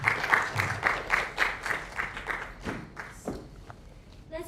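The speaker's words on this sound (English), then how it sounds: "Let's give Nick another round of applause" Applause after a university guest lecture, a room of hands clapping in a moderate rhythm that thins out and fades to a few scattered claps near the end.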